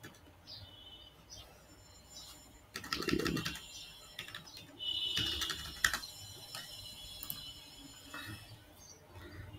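Someone typing on a computer keyboard: quiet, close clusters of key clicks in short bursts with pauses between them, over faint background noise and no talking.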